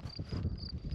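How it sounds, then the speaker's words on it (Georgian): Crickets chirp steadily in a forest during an enduro motorcycle trip near a waterfall, a dense high insect trill with a rumbling low background beneath. "ჭრიჭინების ხმა"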